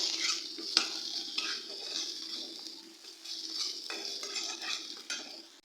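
Ground red chilli, coriander and cumin powder with salt sizzle steadily in a pan as a utensil stirs and scrapes through them, with soft clinks and rhythmic scraping over a continuous close frying hiss, no talking.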